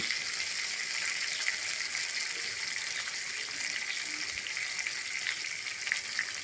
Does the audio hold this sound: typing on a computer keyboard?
no